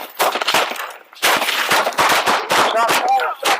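Rapid gunfire erupts during a police traffic stop shootout, loud close cracks in dense overlapping volleys with brief gaps, mixed with shouting.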